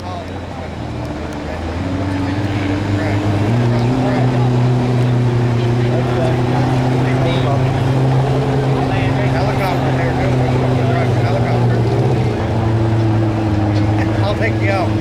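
Modified lawn tractors in the 1,200-pound class roar loudly at a pulling event, several small engines droning steadily with rising revs and pitch shifts over about fifteen seconds while an announcer's voice carries over the crowd noise.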